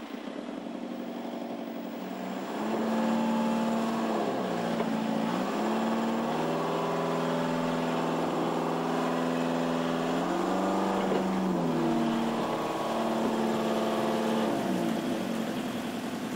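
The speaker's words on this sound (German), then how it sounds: "Bleibt nur der salzwasserrobuste Traktor und ein starker Diesel im Kutter." A strong diesel engine powers a fishing cutter through the surf over sandbars on the Baltic coast, a steady loud drone with shifting pitch as the throttle rises and falls, starting after a quiet opening and running continuously.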